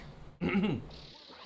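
A pet dog named Athena, locked outside, gives a brief whining, yelping burst of vocal sound that rises and falls for about half a second. Quieter room noise and a faint hiss follow it.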